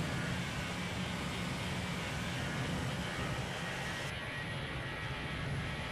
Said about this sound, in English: And voila, both engines are on.